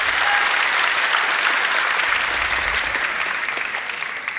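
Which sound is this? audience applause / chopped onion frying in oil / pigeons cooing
audience applause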